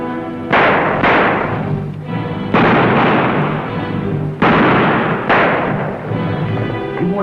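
Gunfire in a shootout from the 1938 western film Bar 20 Justice, with about five loud, booming shots spaced roughly a second apart, each trailing into a ringing decay.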